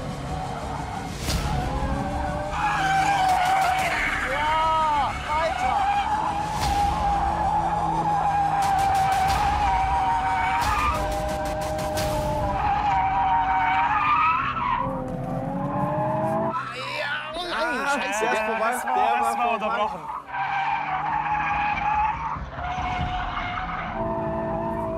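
A car drifting during a TV challenge on a surface that brakes rather than slides produces loud, sustained tire squeal and skidding with a roaring engine, rising and falling in repeated bursts.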